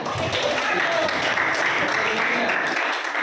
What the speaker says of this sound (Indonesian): tepuk tangan dulu buat keberadaannya